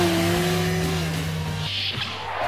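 A car engine revs and whines as it zigzags and reverses quickly, with tire noise and a shift in pitch as it changes direction, fairly close.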